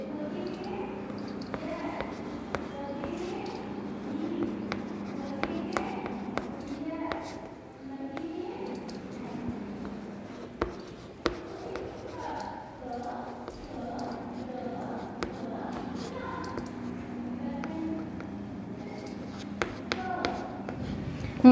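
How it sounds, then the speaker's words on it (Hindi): Chalk scratching and tapping on a classroom blackboard as a teacher writes a sentence, producing irregular short taps and strokes throughout, fairly soft and close, with a child's or teacher's voice heard speaking at times. "मैं ब्लैक बोर्ड पे लिखती हूँ"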